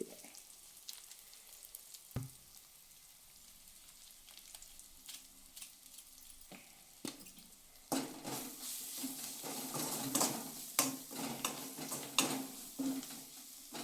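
Leftover rice is tempered and stirred in a pan, giving a steady sizzle with repeated scraping strokes and utensil taps that grow louder and busier in the second half.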